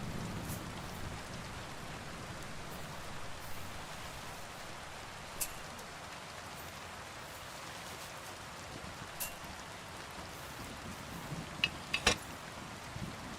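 Rain falling during a storm in the medieval role-playing game Kingdom Come: Deliverance 2, a soft, steady hiss heard alone, with a few faint clinks and drips near the end.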